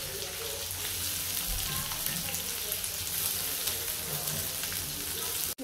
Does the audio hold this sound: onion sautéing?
yes